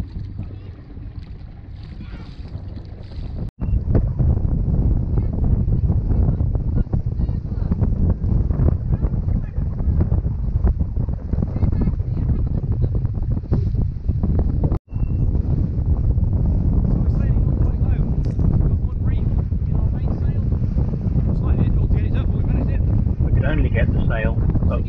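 Strong wind roars across a reefed sailboat under way, a loud continuous rushing buffet against the microphone with water wash mixed in, steady throughout apart from two brief dropouts.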